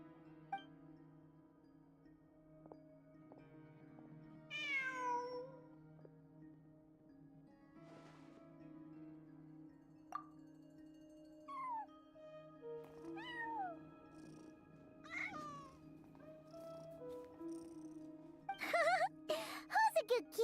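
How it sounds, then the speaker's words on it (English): A cat meows in the Lost Ark game, a handful of separate high, sliding cries scattered over a steady low tonal drone, with a brighter jingling burst near the end. "Who's a good kitty?"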